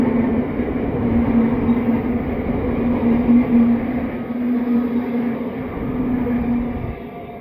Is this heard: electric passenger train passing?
yes